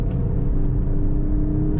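The Alfa Romeo Stelvio Quadrifoglio's 510 hp engine booms with a deep, loud, steady roar under hard acceleration, heard close from inside the cabin.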